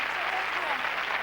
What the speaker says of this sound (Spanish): Un aplauso muy fuerte para Doña Concha.